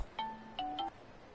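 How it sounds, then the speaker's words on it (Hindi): A phone ringtone plays a short, faint electronic melody of three quick tonal notes, brief and quiet. "एक सेकेंड, किसी का फोन आ रहा है, रुको।"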